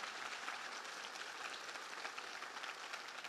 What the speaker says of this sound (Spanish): Fuertes aplausos a nuestro buen Dios.